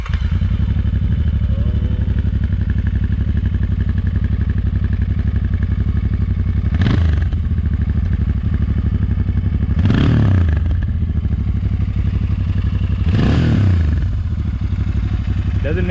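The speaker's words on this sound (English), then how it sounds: "I think I'm gonna show these guys what these bikes sound like." A Royal Enfield Interceptor 650 motorcycle engine idles steadily and loud, close to the mic, with three sharp throttle blips at regular intervals that briefly raise the engine note before it settles back to a constant rumble.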